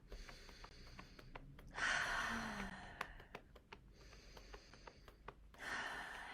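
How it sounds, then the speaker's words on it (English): Slow, deep breaths, soft and close, with long quiet inhales and exhales repeating in an unhurried rhythm against faint background clicks. "you can just take a few nice deep breaths as you're doing this"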